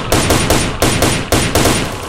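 Loud automatic gunfire in S.T.A.L.K.E.R.: Shadow of Chernobyl: about five sharp, evenly spaced shots cracking close up, each with a short ringing tail.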